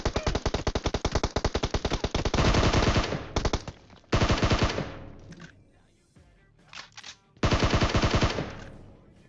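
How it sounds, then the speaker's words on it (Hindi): M4 rifle fire in PUBG Mobile, loud close automatic bursts of rapid shots separated by brief pauses, the final burst starting after a short lull. "अचानक से बंदा आता है बिल्कुल चौड़ में, बिल्कुल ओपन में खड़े होके M4 पटका रहा होता है"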